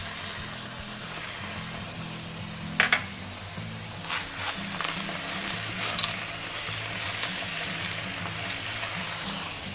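Chicken pieces sautéing in a pan give a steady close sizzle and crackle throughout, with a couple of brief clatters of utensils partway through, no talking.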